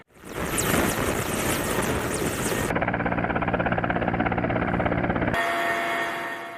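A police helicopter hovers over highway traffic at an inspection point, a loud, steady rotor throb that holds throughout, shifting in tone midway and easing off at the end.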